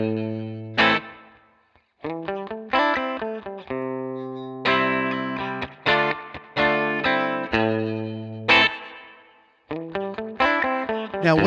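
Electric guitar played through a ToneX Pedal using a Fender Pro Reverb amp model with added reverb, heard alone as a sequence of clean, ringing notes and chords with sharp attacks and decaying tails.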